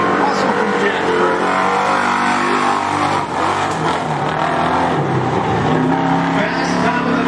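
Race car engine roaring continuously at a dirt speedway during a modifieds and street stocks night, loud and close, steady power with slight rises, an announcer talking over it.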